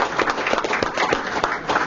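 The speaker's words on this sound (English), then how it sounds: "Lots of folks are here, so please give them an applause." Clapping from an audience at a Turkish Caucus Day event, an uneven patter of individual claps at moderate level in a reverberant room.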